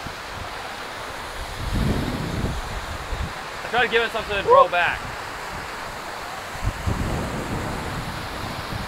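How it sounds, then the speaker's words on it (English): A waterfall feature on a mini golf course sprays water with a steady rushing hiss, while people talk and exclaim nearby over the top of it. "Getting sprayed by the waterfall."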